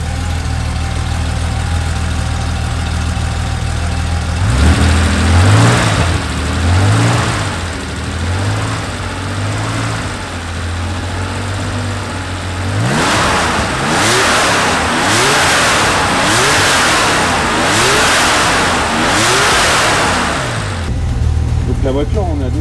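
Racing car engine at an endurance race, idling with repeated sharp revs that climb and fall in bursts, loud and close, with voices now and then.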